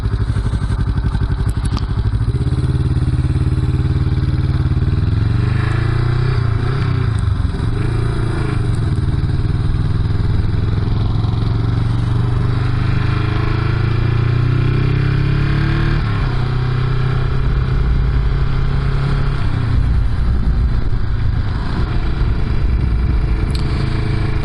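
A 40-year-old Honda CB350 with a 325cc parallel-twin engine being ridden, its exhaust a steady, loud low rumble throughout with rises and dips in revs and occasional clattery mechanical thumps.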